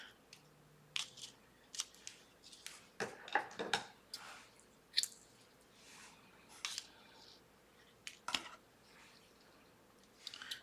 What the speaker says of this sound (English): I'm gonna cut it shorter and cut two pieces the same length